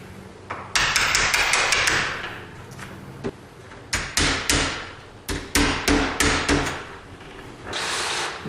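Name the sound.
hammer striking chisel cutting wood door for deadbolt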